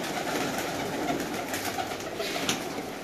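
Pigeons coo repeatedly at a rooftop loft in Gujranwala, a soft continuous throaty murmuring from several birds close by, with faint wing flutters and background noise.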